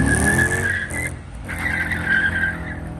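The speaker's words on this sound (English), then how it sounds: "Spinning the tires." A classic car spins its tires at a car meet, a loud, sustained tire squeal over a roaring engine that briefly drops out and then resumes screeching, heard up close with no talk.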